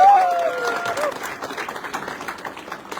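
A crowd of people claps at a car showroom in a brief burst of dense applause that starts loud and then thins to scattered clapping, with voices murmuring underneath.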